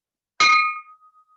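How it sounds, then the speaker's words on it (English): A bell rung once to open an annual Rotary Club business meeting: a single bright, sharp strike followed by a clear ringing tone that decays slowly into silence, close and loud. "People in the room always love the bell."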